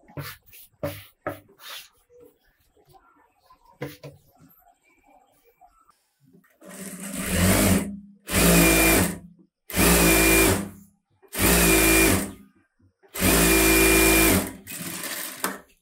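A tailoring sewing machine stitches a close-neck blouse in five loud bursts of several seconds each, separated by short pauses, after a stretch of quiet handling sounds at the start.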